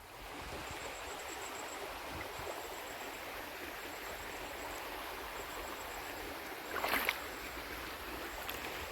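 Water flowing steadily through a full irrigation canal on a dairy farm, a continuous even rush close by with no talking.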